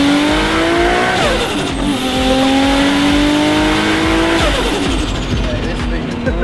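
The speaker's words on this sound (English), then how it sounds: "We'll do a first gear sort of rolling launch." A 2.8-litre stroker Nissan R32 Skyline GT-R pulls hard through first gear from a rolling launch, its engine note climbing loudly and steadily up the revs, close and dominant, with a voice speaking over it.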